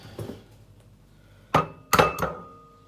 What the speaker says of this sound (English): I'm just going to crack open and beat another egg